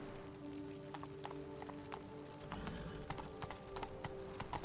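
Roach, Geralt's horse in The Witcher 3: Blood and Wine, clip-clops along in a steady stream of crisp hoofbeats over a low ambient game soundscape, the steps growing denser and busier partway through.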